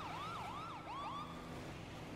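An ambulance siren in a video game wails in a rising and falling sweep, steady and fairly faint over a constant background hum, with no voices.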